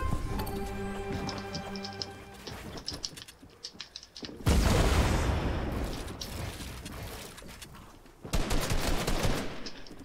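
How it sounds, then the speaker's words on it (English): Bursts of gunfire in a Fortnite arena duos match, quick cracking volleys in two loud stretches separated by quieter game noise, with no talk. "Yo, stop shooting at me."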